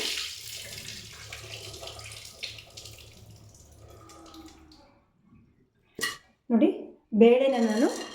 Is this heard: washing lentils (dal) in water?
yes